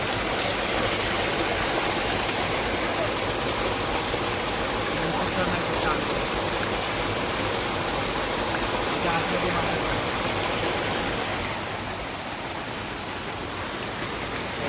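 A river stream tumbles near a waterfall, giving a steady broadband rush that stays loud and even throughout, then eases slightly toward the end.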